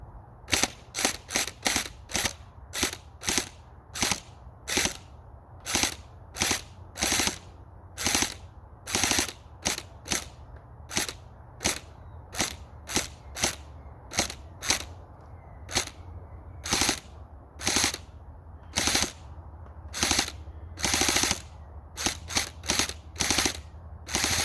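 A gel blaster fires Gladiators hard gel balls in a long string of sharp single shots, irregularly spaced and close, with a faint motor hum between them.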